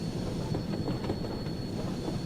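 Steam train wheels in the Train Sim World 2 video game roll with a steady, loud rumbling clickety-clack and a faint high tonal whine, continuous with no talk.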